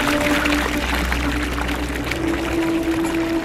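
Water pours into an Inca stone channel as a steady, close splashing stream with gurgling and a faint ringing tone running through it, no talking during the pour.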